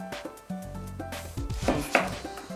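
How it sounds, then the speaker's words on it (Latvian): A knife cuts through an exotic fruit on a cutting board, with several close, dull thuds and scraping crunches of the blade pressing through the flesh. "Es viņu varbūt pārgriezīšu"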